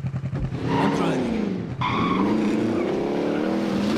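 In the video game Bloodhunt, a car engine revs and whines loudly up close while tyres squeal and skid in long sweeping slides, a brief bump and rattle marking a sharp change partway through.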